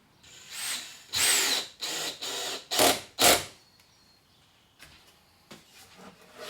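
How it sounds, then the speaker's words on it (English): A screw gun drives screws into a wooden snare cajon kit in several loud, close bursts of whirring, each about half a second long, followed by quieter, fainter mechanical sounds. "Grab several screws, your screw gun,"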